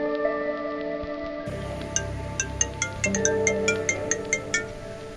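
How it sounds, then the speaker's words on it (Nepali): A mobile phone's ringtone plays, starting with sustained electronic tones and then moving into a quick run of bright, chiming pulses in a regular rhythm, close and clear with no talking. "दर्शन के हो छोरो, त फोनै उठाउँदिनस् त"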